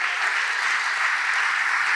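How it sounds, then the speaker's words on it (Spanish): Steady, dense applause from a church congregation fills the whole stretch, loud and even without pause or voices on top. "Dale ese aplauso al que vive."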